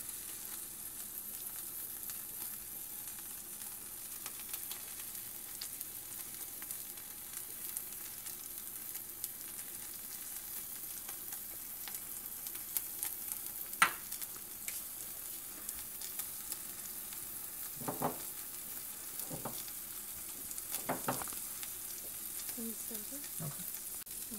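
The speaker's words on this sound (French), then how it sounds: "Cuisez pendant un peu plus et ajoutez un peu de fromage sur l'omelette." An omelette with cheese fries on a stove, a faint, steady hiss of sizzling throughout, with a few soft knocks and scrapes of a utensil near the end.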